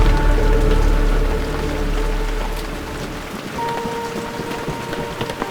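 Heavy rain pours outdoors on a cool, humid day, a dense steady hiss of drops hitting surfaces with a deep rumble early on that fades, loud and continuous without any voices.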